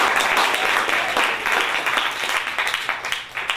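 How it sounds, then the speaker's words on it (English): A room of listeners at a Thursday readers' gathering claps steadily and fairly loudly, the applause thinning toward the end with a few distinct claps standing out. "Let's clap again"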